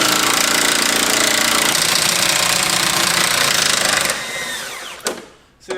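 A loud power tool runs continuously while unbolting the fuel tank from an abandoned Cadillac limousine, a steady harsh mechanical clatter that cuts out near the end, followed by faint clanks.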